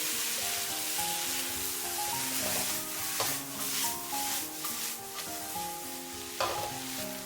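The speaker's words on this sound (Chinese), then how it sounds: "再把洋葱、鸡蛋还有青椒全部都加进来，稍微翻炒一下，翻炒均匀" Onion, egg and green pepper stir-fry in a wok, a steady close sizzle with repeated scraping and tossing strokes of a spatula against the pan, with no voices.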